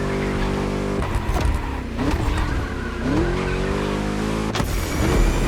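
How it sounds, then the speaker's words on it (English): A racing V8 engine in the video game The Crew Motorfest roars and revs through gear changes, pitch sweeping up and down, with tire squeals between shifts. "Just listen to that V8,"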